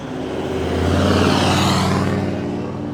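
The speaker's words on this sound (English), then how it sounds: "Just wait for that loud truck to go past." A loud truck passes close by on a suburban street, its broad engine roar swelling to a peak mid-way and then easing off without fading fully.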